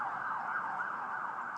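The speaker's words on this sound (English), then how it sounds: "different sounding sirens" An emergency vehicle siren wails with a rising and falling tone. It sounds fairly distant, stays continuous and steady through the short stretch, and no one talks over it.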